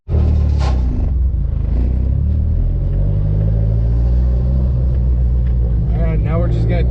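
A 1500-horsepower car engine rumbles with a deep, loud, steady idle and a low throb as the car pulls away, with a brief rev near the start and someone talking over it.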